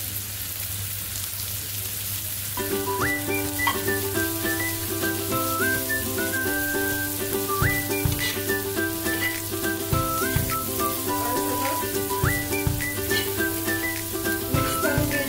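Spices frying in a pan for tava pulao give a steady, even sizzle that runs the whole way through beneath a louder melodic tune carried on top.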